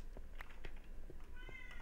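Indoors, a house cat lets out a few short meows, including one drawn-out call toward the end, each moderately close and set against a low hum of background noise.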